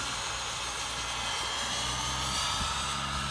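A turbine-powered RC helicopter, a Whiplash Turbine, runs at idle-up 2 at about 2,000 rotor RPM at an RC helicopter event, giving a steady, faint, broadband whine and rush with a low rotor hum.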